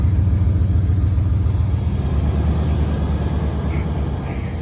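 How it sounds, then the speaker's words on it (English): An old truck's engine idles and runs steadily as it creeps forward on its own, a close, even low rumble that eases slightly in loudness. "She's moving on her own accord, rolling some white smoke out."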